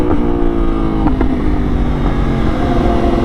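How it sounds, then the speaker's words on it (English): A 2024 Yamaha R1 sport bike downshifting without the clutch, its loud, close engine droning steadily with brief blips as the gears drop. "The sick thing about the 24R1s, or just newer bikes, you can just downshift without touching the clutch"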